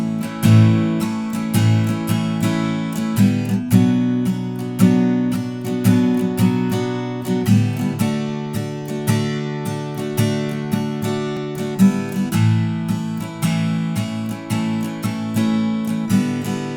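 Continuous guitar strumming with a swung, lilting sixteenth-note feel, long downstrokes and short upstrokes, played steadily and fairly loud with no voices.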